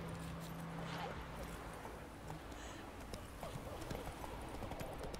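Horse hooves clip-clopping in the video game The Witcher 3, a steady soft patter of steps under dense ambient noise, moderately distant and fairly faint throughout.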